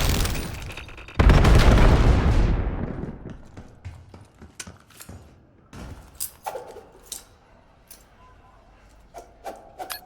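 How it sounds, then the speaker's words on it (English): An EMP grenade goes off in the Black Ops 7 multiplayer shooter, a loud close burst that decays over a couple of seconds, followed by scattered footsteps, clicks and faint game sounds. "Using EMP grenade."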